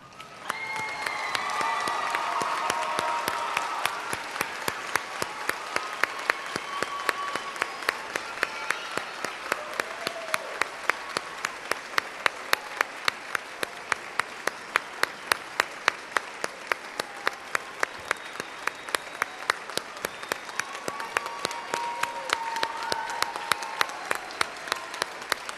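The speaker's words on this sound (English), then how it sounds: "please stand up and give Mr. Fonseca and his staff a round of applause" Sustained applause from a large audience at a middle school graduation ceremony, steady dense clapping with some crowd noise, continuing unbroken from start to finish.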